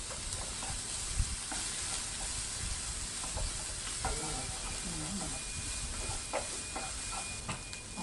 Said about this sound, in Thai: พริกกับกระเทียมที่เฮ้าเตรียมไว้ครับ เอาลงไปเลยครับ ผัดให้มันหอมก่อนนะครับ